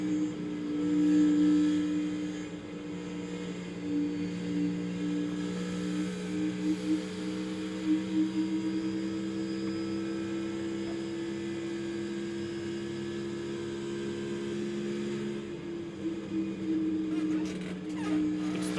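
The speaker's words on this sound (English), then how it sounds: "Great to hear that throttle modulation" A NASCAR race car engine drones at a distance during the Kansas playoff race, a steady hum that swells and eases as the throttle is modulated, with faint crowd or broadcast noise underneath.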